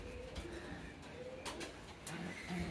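A male pigeon coos to court a female, soft low repeated coos sitting under a faint noisy background, with occasional quiet rustles and flutters.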